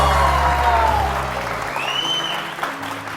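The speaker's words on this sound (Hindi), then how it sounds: "वाजिद के लिए बहुत सारी तालियां।" A TV morning show studio audience breaks into loud applause that fades gradually, with a host talking over it.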